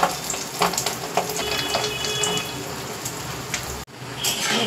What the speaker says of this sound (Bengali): এবার আমি তেল দিয়ে ভেজে নেব।